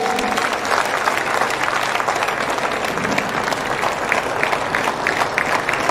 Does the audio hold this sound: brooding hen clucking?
no